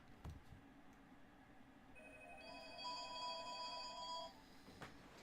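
A telephone rings in a sequence of repeated electronic trills during a game session, clear but moderately quiet over a low background hum, with no talk over it.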